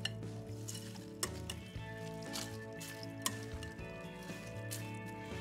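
A spoon stirs a green bean and mushroom Alfredo casserole mixture, giving quiet, close, wet squishing sounds with a few faint clinks against the bowl and no talking.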